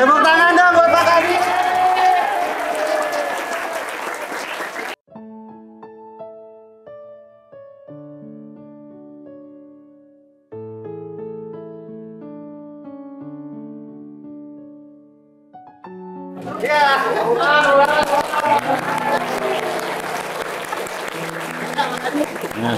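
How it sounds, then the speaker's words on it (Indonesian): A junior high science class at SMPN Ekologi claps for Pak Adi: a dense burst of applause, then a short electronic musical jingle, then another long round of clapping with voices mixed in. "Tepuk tangan dong buat Pak Adi."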